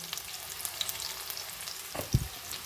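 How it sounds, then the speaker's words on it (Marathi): Tomatoes go into a pan of golden fried onions with a faint steady sizzle, a brief louder burst of frying and stirring in the middle, no voices. "आपला कांदा आता गोल्डन झाला आहे. मी टमाटर टाकून घेते."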